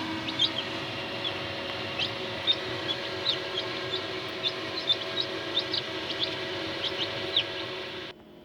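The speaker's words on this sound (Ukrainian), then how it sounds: "Вилупляється курчата легорна далматинця від Дмитра Дмитрука" Newly hatched Dalmatian Leghorn chicks peep repeatedly in short, high chirps over a constant incubator hum, overlapping and fairly close, then the sound cuts off abruptly near the end.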